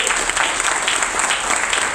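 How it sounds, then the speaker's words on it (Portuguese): A church congregation claps together in steady, dense applause, close and fairly loud, for a couple of seconds. "Se você crê nisso, aplauda o Senhor Jesus."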